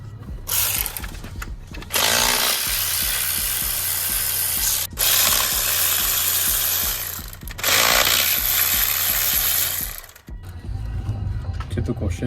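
A ratchet clicks rapidly in long, close, loud bursts while valve covers come off a turbocharged Chevy engine, with short pauses between runs and a hissing spray mixed in.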